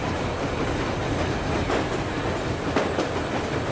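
A train rolls along a railroad in the video game Metro Exodus, a continuous loud rumble of wheels and carriages with faint rhythmic clacks running throughout, no voices over it.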